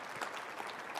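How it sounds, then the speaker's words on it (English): Brief, soft applause from an audience at a summit on infant mortality, a quiet wash of clapping hands lasting about a second. "yes, that's worthy of applause"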